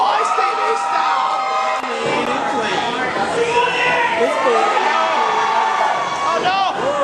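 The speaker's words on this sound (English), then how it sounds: "The crowd is coming unglued!" A wrestling crowd at a UCW independent show roars and cheers wildly, a dense, sustained wall of shouting and whooping with an excited commentator talking loudly over it throughout.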